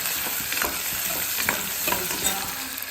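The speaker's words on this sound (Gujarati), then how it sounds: "ડુંગળી ઉમેર્યા બાદ તેમાં આપણે થોડા લીમડાના પત્તા ઉમેરીશું અને ડુંગળીને આપણે સંતળાવા દઈશું" Chopped onions and curry leaves sauté in a pan for a vegetable pulao, giving a close, continuous sizzle with small scraping stir sounds scattered through it and no voices.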